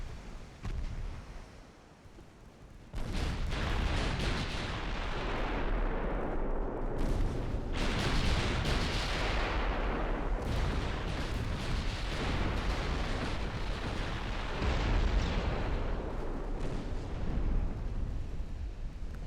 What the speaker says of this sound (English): I do like the sound of those 14-inch guns.